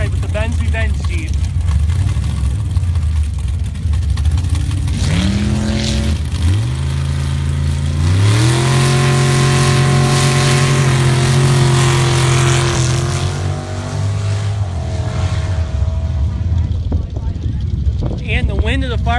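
Drag racing launch at a Pro Gambler bracket elimination, with the Benz Revenge Jeep on the far side: loud engines rise and rev in climbing pitch steps, then a sustained roaring pass fades away, with an announcer talking over it and heavy wind buffeting.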